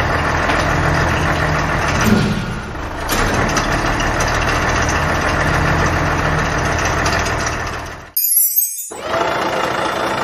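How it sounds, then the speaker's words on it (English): A garbage truck engine idles in a loud, steady broadband rumble for about eight seconds, followed by a short bright jingle and a return of the engine noise, with no talking. "Garbage truck."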